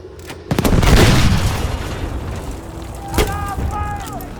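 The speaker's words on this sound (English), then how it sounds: "I will blow up the dynamite and then I will call the attack." Dynamite goes off in Battlefield V as a loud, heavy boom that rolls and fades over a couple of seconds, followed by a smaller thud and a rising whistling tone near the end.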